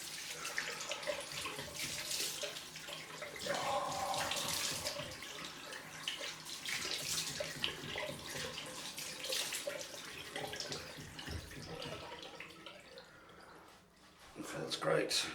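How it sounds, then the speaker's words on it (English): A running tap splashes steadily into a sink during a cold-water rinse after a head shave, close and continuous with handling noises and a short rise in the splashing near the end. "Time for the cold rinse."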